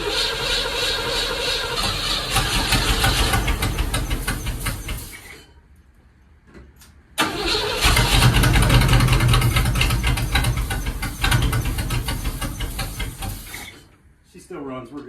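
A 1958 Plymouth engine runs loudly up close with a rough broadband roar, drops out almost to silence for about two seconds, then fires back up and keeps running before cutting out again near the end.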